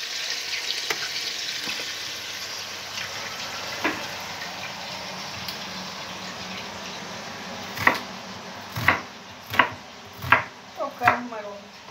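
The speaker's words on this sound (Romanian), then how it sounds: "eu o să tai ceapa și morcovul" Onion and carrot are chopped on a board near the end, five or six distinct knife thuds in a steady rhythm, following a stretch of oil sizzling in the background.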